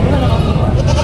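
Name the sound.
goats bleating at a livestock market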